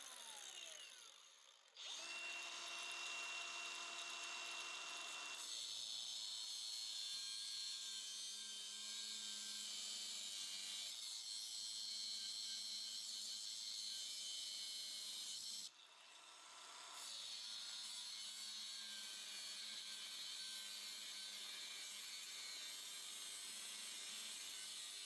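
A power tool whines steadily for about 25 seconds while cutting a triangle out of metal on a Champion wood buster, with brief pauses near the start and around the sixteen-second mark and no talk over it.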